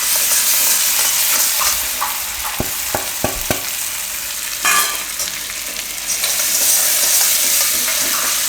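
Turmeric and ginger sizzle in hot oil for a Gujarati bajra flour soup: a steady, bright frying hiss fills the whole stretch, broken by a few sharp spoon clicks and stirring taps near the middle.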